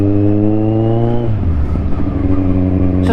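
A Kawasaki Z1000R motorcycle engine revs loud and close. A high steady rev holds, then drops sharply to a lower rumbling idle and climbs again at the end.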